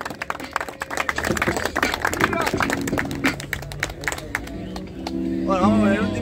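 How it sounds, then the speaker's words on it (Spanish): Scattered audience claps burst out at a freestyle rap battle show, sharp and irregular, mixed with voices and crowd noise that grow louder toward the end. "Por el aplauso, gente."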